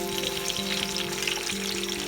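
Tomatoes sizzling and frying in hot oil with browned onion for chana pulao, a steady loud crackling hiss close up with no talk.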